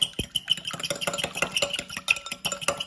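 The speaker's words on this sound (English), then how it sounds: "now you want to lightly beat the eggs. A fork is good for that" Eggs lightly beaten with a fork in a bowl for eggplant parmesan, a fast run of close, bright ticking taps against the bowl with a steady rhythm and no talking.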